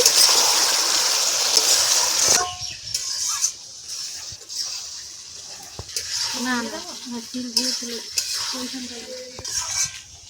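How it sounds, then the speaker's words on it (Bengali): Mutton curry sautéed in a pan with ground spices, a steady sizzle with repeated scraping and stirring of the meat, loud at first then quieter, with a voice speaking over parts of it. "মাংস এরকম বারে বারে নেড়ে নেড়ে কষাই করতে হবে।"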